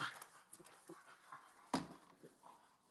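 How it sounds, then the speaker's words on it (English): Dogs outside a house, heard as faint panting and whimpering against a noisy background, with one sharper louder sound partway through and no clear talk. "Them dogs tweaking outside."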